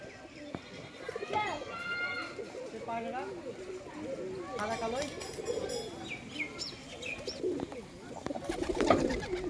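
A pair of domestic pigeons coo softly nearby in repeated low, throaty calls, partly under someone talking over them.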